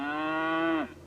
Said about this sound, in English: They go moo, and they are cows.